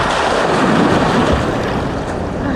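A constant rush of splashing water and wind at the end of a water park slide, loud and close, with no voices.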